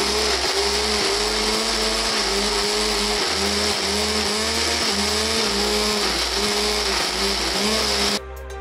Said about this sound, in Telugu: బాగా మెత్తగా మిక్సీ పట్టేసుకోవాలి.